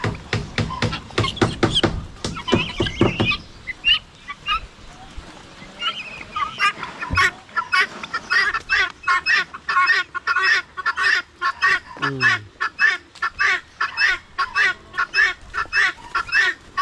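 A flock of geese honks loudly and repeatedly in rapid, overlapping bursts, close by and continuous with brief lulls.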